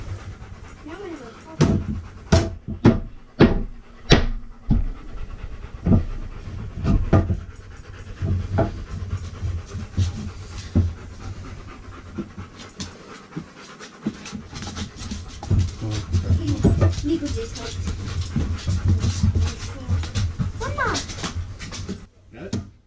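Dogs pant heavily and whimper close by, with sharp knocks and yips scattered through, then continuous breathy panting over a long stretch.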